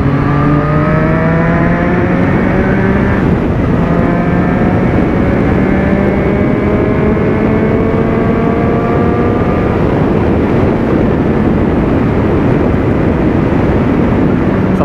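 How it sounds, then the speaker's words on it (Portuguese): A motorcycle with a faulty throttle that drops low when released revs loudly nearby, its pitch climbing repeatedly in rising sweeps, then settling into a sustained roar. "Essa moto tem um defeito, velho. Você tira a mão do acelerador, ela brum, baixa no chão."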